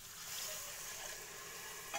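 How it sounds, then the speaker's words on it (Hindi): Chickpea curry sizzles steadily in a pan while being stirred and water is poured in, a soft continuous frying hiss with a faint splash near the end. "अब इसमें हम पानी डालेंगे।"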